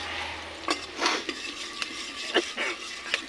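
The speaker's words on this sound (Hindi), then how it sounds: "ये देखिए प्याज अपना भूंज रहा है" Onions and chillies frying in a pan for a bhindi and onion dish, a low sizzle broken by several sharp clinks and scrapes of a spatula against the metal pan.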